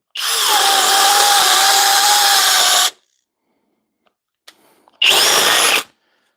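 A Flex compact drill with a 2.5 amp hour battery bores a 1 inch hole on speed 2, running loud and steady for about three seconds before cutting out, then a few faint clicks and a second short burst of drilling.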